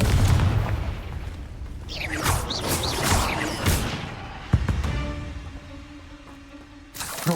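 Confringo blasting spell in Hogwarts Legacy, a booming fiery explosion with crackling bursts and rumbling debris, followed by a sharp hit and a later second blast, amid game combat sounds without speech.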